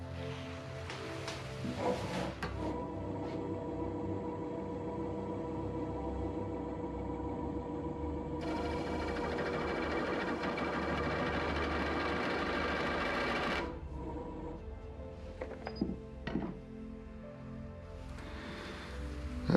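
A spiralling texturing tool cuts into wood on a lathe spinning at 400 RPM, giving a steady buzzing, rattling whir that holds for several seconds and then stops, with quieter knocks and handling sounds before and after.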